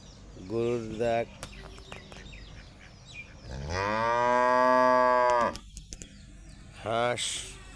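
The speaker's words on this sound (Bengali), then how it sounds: "গরুর ডাক" A village cow in rural Barisal moos three times, two short calls, then one long, loud, sustained bellow, then a brief final call, with faint background sounds between.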